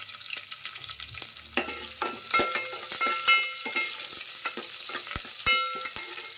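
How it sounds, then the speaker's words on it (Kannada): Mustard seeds, cumin, curry leaves and onion sizzle in hot oil for a tempering, with steady frying crackle, scattered seed pops and a spoon stirring and scraping the pan now and then, close and without talk. "ಒಗ್ಗರಣೆಗೆ ಒಂದು ಸ್ವಲ್ಪ ಸಾಸಿವೆ ಜೀರಿಗೆ ಎಲ್ಲನೂ ಹಾಕಿದ್ದಾದಮೇಲೆ ಕರಿಬೇವಿನ ಸೊಪ್ಪು ಮತ್ತು ಒಂದು ಸ್ವಲ್ಪ ಈರುಳ್ಳಿ"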